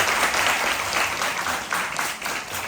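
A group gives a round of applause at a jiu-jitsu seminar, steady clapping from many hands filling the room at close range for a few seconds without pause.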